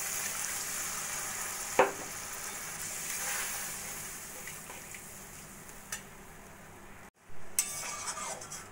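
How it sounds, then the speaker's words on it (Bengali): Spices frying on low flame in a pan for doi potol, a soft continuous sizzle with a few sharp clinks of a spoon stirring against the pan, steady and fairly close, no talking. "এবার লো ফ্লেমে কিছুক্ষণ মশলাটাকে কষিয়ে নেব।"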